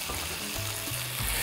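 Lamb with quince and currants fries in a pan, giving a close, steady sizzle with soft crackling throughout and no voices.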